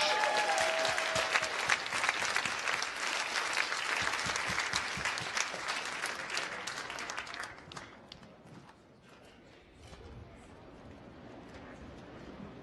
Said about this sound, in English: So let's give a warm round of applause as we invite former Patriots Dan Copen, Stephen Neal, and Logan Mankins to the stage